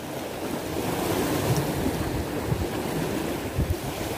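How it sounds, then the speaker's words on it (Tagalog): Strong sea waves wash onto the shore during shore casting for barracuda, a broad continuous roar of surf mixed with gusting wind noise on the microphone. "medyo malakas na kayong alon"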